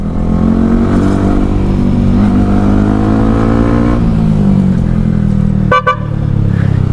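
A modified motorcycle engine with about 15,000 km on it revs loudly and close by, its pitch climbing and sagging over several seconds. A brief horn-like toot cuts in near the end.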